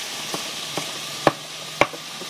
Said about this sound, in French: Maintenant, elle ajoute de l'oignon frais.